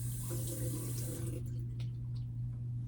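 Water runs from a tap in a steady hiss that cuts off partway through, leaving a low hum and faint drips.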